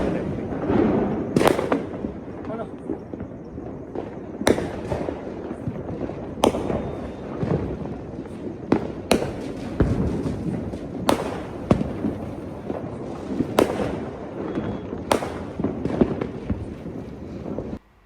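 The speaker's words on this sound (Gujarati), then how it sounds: "અત્યારે એટલા મસ્ત ફટાકડા ફૂટતા હતા" Repeated sharp firecracker bangs burst at irregular intervals over a constant crackling, hissy background of distant fireworks.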